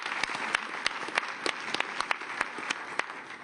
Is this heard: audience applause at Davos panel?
yes